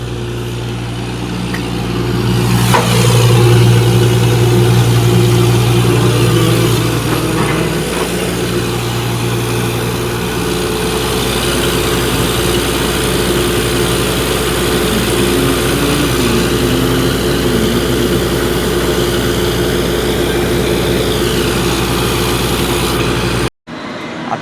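A borewell drilling truck's engine runs with a loud, continuous low drone and steady mechanical hum. It sounds close and unbroken for over twenty seconds, with a brief swell early on and no talking.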